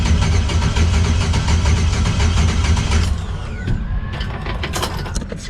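A boat engine with its spark plugs removed and fuel pump relay pulled cranks over on the starter for a compression check, a loud, fast rhythmic churning that runs for about three seconds and then winds down into clicks and mechanical rattles.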